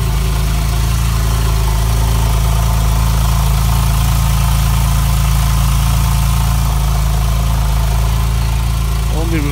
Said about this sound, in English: I'm going to turn on the sport exhaust. Of course, at idle, there's not much of an adjustment in the sound of the sport exhaust.